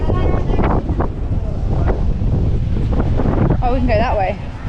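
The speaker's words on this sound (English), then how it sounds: "A bit windy." Strong gusts of wind buffet the microphone outdoors at Disney World in Orlando on a rainy day, a loud continuous rumbling roar with brief bursts of speech and a voice passing nearby.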